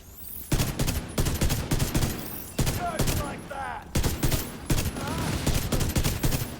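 Rapid rifle fire from the Ravenous exotic rifle in The Division 2 video game, with loud dense volleys of shots in several sustained bursts and brief gaps between them, mixed with game effects.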